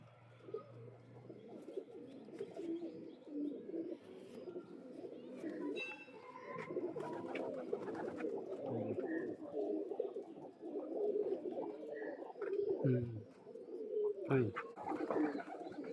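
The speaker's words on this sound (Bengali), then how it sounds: "ভিউয়ার্স দেখুন, এক জোড়া ফুলশিরা কবুতর" A pair of Fulshira pigeons coo in soft, repeated low calls close by, the cooing steady throughout with a few faint chirps and small rustles mixed in.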